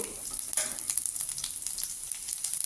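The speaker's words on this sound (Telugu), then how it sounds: "ఆయిల్ హీట్ అయిందండి. ఆవాలు, జీలకర్ర ఇస్తున్నాను." Mustard seeds and cumin sizzle in hot oil as the tempering for South Indian punukulu. A close, steady hiss carries scattered small crackles and pops throughout, with no voices.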